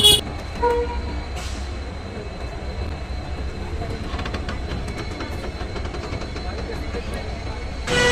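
The Jammu Mail express slowly pulls out of a station platform at Ludhiana, a steady low rumble of rolling wagons running throughout with faint clanks, brief louder bursts at the start and end, and murmuring platform voices.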